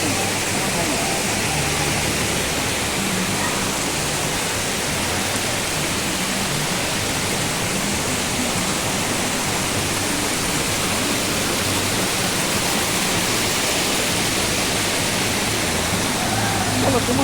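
Ella Uda Ella waterfall in Sri Lanka roars in a steady, loud, unbroken rush of falling water that fills the whole stretch, with no breaks or changes in intensity.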